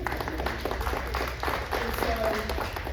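An audience at a state education funding presentation claps steadily, a dense wash of applause running the whole time with a voice talking over it.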